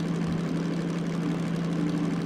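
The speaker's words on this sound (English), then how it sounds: "We're just chugging away at a constant speed." DM3 diesel locomotive in the Derail Valley simulator game, running at constant speed with stable revs, a steady low engine drone and hum that stays even and moderately quiet throughout, with no voices.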